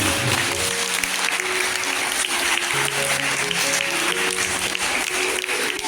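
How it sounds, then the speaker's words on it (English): Audience at a farewell ceremony for a school principal at a girls' school applauds in a continuous dense clatter, with steady musical tones sounding underneath throughout. "A big round of applause for you."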